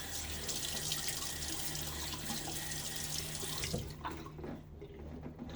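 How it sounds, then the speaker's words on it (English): Sink tap running steadily at close range while water is splashed onto the face before a shave, a continuous rushing flow that thins out near the end. "So I'm going to do a little pre-shave by just throwing some water on my face."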